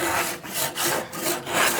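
A hand rasp drawn across wood in four or five rough, scratchy strokes, each a gritty rasping burst separated by brief pauses, close and moderately loud.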